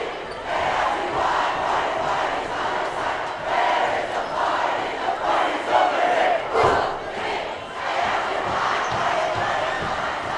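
A high school basketball crowd at Rocky Mountain HS versus Fort Collins chants in rhythmic swelling waves, loud and sustained in a gym, with occasional sharp thuds and a brief spike near the middle.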